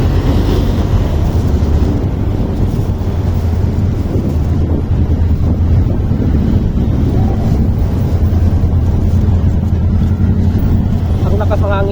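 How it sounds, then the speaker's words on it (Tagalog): Strong wind from a typhoon blows outdoors under overcast skies, a constant loud roar buffeting the microphone for the whole span with no clear pauses. "Ang lakas ng hangin nito guys kasi may bagyo."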